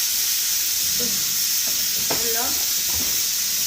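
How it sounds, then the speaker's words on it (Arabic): Garlic and onion frying in a pan, a constant bright sizzle with a few faint stirring scrapes, while someone speaks briefly over it. "أنا هون حاطة ثوم هيك مثلا فوق أكثر مع البصل تقليوه"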